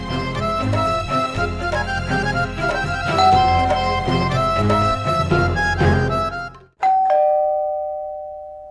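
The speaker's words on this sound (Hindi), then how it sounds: "और ये घंटी नाम का चीज को भी अभी टंटराना था।" A doorbell chime rings out clearly, its tonal notes sounding over a busy stretch of background music before a final long ringing tone sustains alone after a brief drop.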